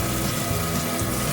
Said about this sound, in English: Just run water in it without any soap.